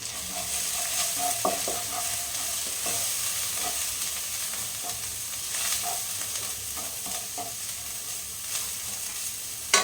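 Turmeric and coriander powder stir-fried in oil in a pan for an egg dish, a loud continuous sizzle with repeated scraping stirs of a spoon, close up and uninterrupted by talk.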